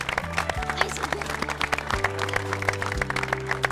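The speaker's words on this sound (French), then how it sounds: "On peut les applaudir" A crowd claps steadily for a team on the podium at a pike and predator fishing competition prize-giving in Saumur, sustained applause heard through loud background music.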